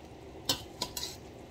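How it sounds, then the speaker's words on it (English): Spoon stirring pepper and garlic into Guyanese lime sour in a home kitchen, three sharp clinks and scrapes against the container in quick succession, close and fairly quiet, with no talk. "We're gonna add the pepper and the garlic in there. Give that a good mix."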